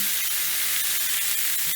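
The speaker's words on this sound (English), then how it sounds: "Oh, here it's sizzle. It's hot, and you can see it smoking." A loud, continuous hiss of a smashed burger patty sizzling and smoking in a hot pan, bright and close, ending with a sharp click.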